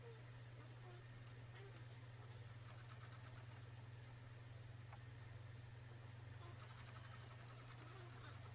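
A sewing machine stitches straight across tote bag fabric, a continuous low motor hum with a fine rapid needle patter, faint and steady throughout.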